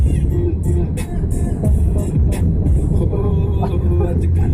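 Car on a road near a girls' hostel (Balika Ashram) area, with steady loud low engine and road rumble throughout and scattered brief higher noises on top.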